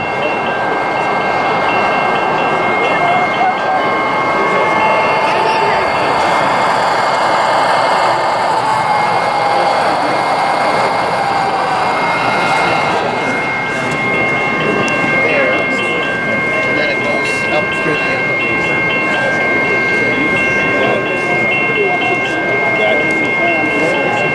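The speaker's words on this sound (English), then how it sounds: "Here's a train doing some train stuff. It's going past a crossing." A train rolls steadily past a level crossing at close range, a continuous rumbling roar with faint tonal ringing from the crossing signal above it, voices speaking underneath.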